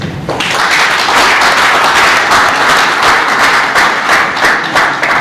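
An audience at a book dedication ceremony for an encyclopedia of Mancagne culture bursts into loud, sustained applause, dense clapping filling the room from start to finish.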